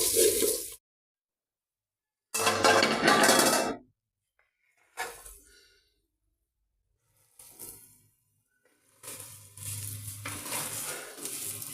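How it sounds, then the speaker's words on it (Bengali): Rice being fried with spices and lentils for khichuri in a pot, scraping and clattering in several separate bursts of stirring with quiet gaps between, close and fairly loud. "এখন ভালো করে চালটা ভেজে দেবো মশলার সাথে"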